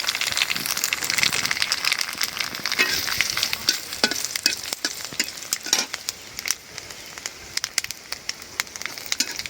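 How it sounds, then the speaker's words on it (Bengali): Black cumin and dried chili tempering in hot oil in a home kitchen where fish has just been fried, giving a steady close sizzle and crackle with scattered sharp pops and stirring scrapes throughout. "কালো জিরা শুকনো মরিচ দিয়ে বাগার বসাই দিলাম।"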